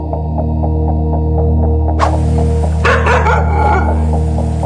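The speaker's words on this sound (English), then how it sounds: "Listen to your dog bark." A domestic dog barks a couple of sharp times midway through, loud and close, over a steady low electrical hum.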